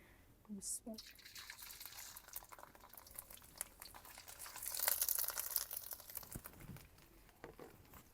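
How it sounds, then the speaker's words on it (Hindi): Bitter gourd (karela) pieces frying in oil, giving a soft, steady hiss that swells into louder sizzling midway and then settles, with faint background sounds. "तो अब हम ना इसको डाल देंगे ऑयल में और फ्राई कर लेंगे।"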